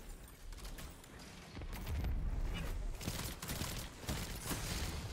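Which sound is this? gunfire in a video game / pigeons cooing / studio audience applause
gunfire in a video game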